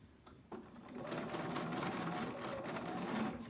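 After a couple of quiet clicks, a sewing machine hums into a steady, fast stitching run on a fabric scrub cap, close and continuous for about three seconds.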